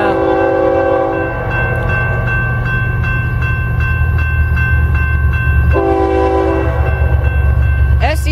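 A train approaching and passing at night, observed by railfans, sounds a loud, sustained multi-tone horn twice, with a heavy rumble of engines and wagons underneath throughout.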